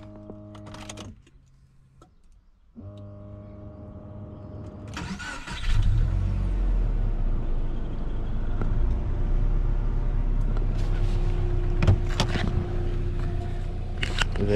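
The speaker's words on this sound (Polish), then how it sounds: "odpalimy auto." A 2006 Subaru Legacy IV with a 2.0 boxer engine gives a few electronic chimes inside the cabin, then cranks and fires, settling into a steady low idle with some clicks over it.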